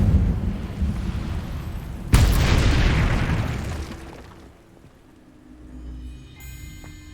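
Casting the Incendio fire spell in Hogwarts Legacy sets off a sudden loud whooshing burst of flame that roars for about two seconds, then fades into a low rumble and quieter game ambience.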